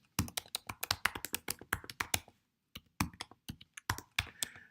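Someone types an email address on a computer keyboard, with quick bursts of close, crisp key taps, a brief pause near the middle, then another run of keystrokes.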